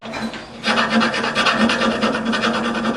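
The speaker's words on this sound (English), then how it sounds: "Did a little bit of filing here," Hand filing on a Scott Drake restoration part for a Mercury Cougar, a steady close rasping stroke repeated over and over for about two and a half seconds after a short quieter start.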